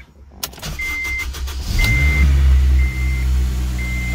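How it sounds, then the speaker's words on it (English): A 2005 car engine cranks over briefly, catches and settles into a steady, loud idle with a constant low hum, recorded up close in a garage-like space with a faint high electronic whine recurring. "I'm gonna start this guy up, let it run for maybe 30 seconds if that."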